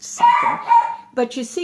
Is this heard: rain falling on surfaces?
no